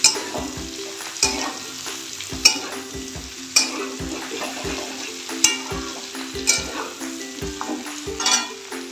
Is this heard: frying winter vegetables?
yes